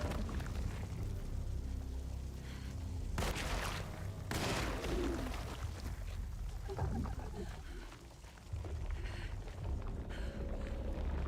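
Video game explosions in a dark horror setting: two sharp loud blasts burst out in quick succession over a rumbling low ambience, followed by scattered debris-like crackles and a lingering dark drone.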